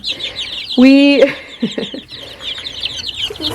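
A loud, close chicken call with a harmonic squawk, followed by softer clucks and high peeping chirps of young chicks continuing in the background.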